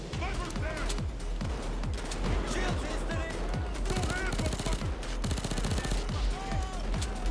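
Suppressed AS Val (Valkyria) rifle firing in Payday 2, a rapid stream of dense, steady automatic shots over game ambience, with someone talking over the gunfire.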